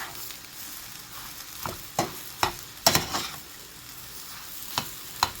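Hot dog fried rice being stirred in a hot pan, with a steady sizzle and several sharp scrapes and clacks of the utensil against the pan at irregular intervals, and no voices.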